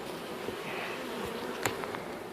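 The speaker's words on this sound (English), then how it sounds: "There were some bees, but there's really no honey in here." Honey bees buzz faintly inside an upper hive box in a backyard hive, a soft continuous drone with a brief sharper flick near the end.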